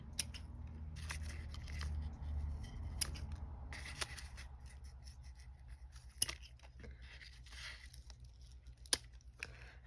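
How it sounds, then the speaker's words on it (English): Scissors snip repeatedly through excess cord after an overhand knot while binding a handmade junk journal, giving sharp close cuts at uneven intervals over faint rustling and handling noise, with no talking. "Now I'm just going to trim off a little bit of the excess"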